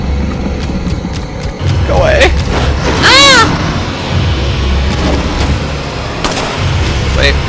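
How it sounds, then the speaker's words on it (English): A rocket launcher fired in Resident Evil 4 gives a loud blast with a rumbling low roar, over a busy game soundtrack, with a sharp rising whine mid-way; no speech. "Yeah, I'm definitely gonna use the rocket"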